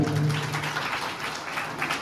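An audience claps to welcome guests at a school farewell ceremony for a teacher, a short, dense burst of applause at moderate volume with no talking.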